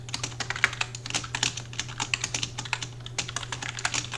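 Fast, uneven typing on a computer keyboard, a steady run of close, crisp key clicks with no talking.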